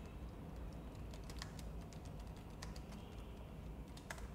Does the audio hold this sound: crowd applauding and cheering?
no